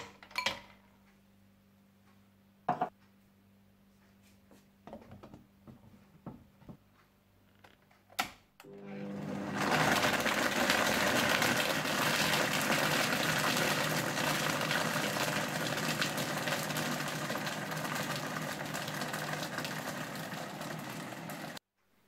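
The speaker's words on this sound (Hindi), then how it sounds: "ब्राउन शुगर, वनीला एसेंस और क्रश्ड आइस डालकर अच्छी तरह से ब्लेंड कर लें।" An electric blender whirs loudly and steadily, blending a mango shake with brown sugar, vanilla essence and crushed ice. A few light kitchen clinks and taps come before it, and no one speaks.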